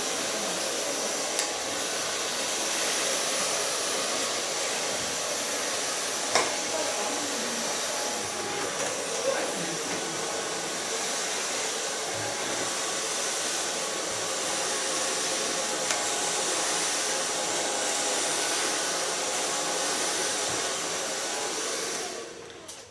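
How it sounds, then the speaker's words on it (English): A hair dryer runs steadily through the whole stretch while blow-drying hair after a trim and new colour, its airflow a loud continuous whoosh, with faint handling bumps and no talk. "So far blow drying."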